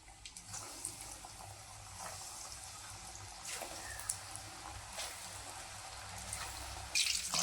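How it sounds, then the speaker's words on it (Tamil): Chicken cheese balls fry in hot oil with a soft, continuous sizzle and bubbling, quiet and steady, with a brief sharper crackle near the end. "இப்போ எண்ணெய் காய வச்சு எண்ணெய் காஞ்சிருச்சு. ஒவ்வொரு பாலாக போட்டுக்கலாம்."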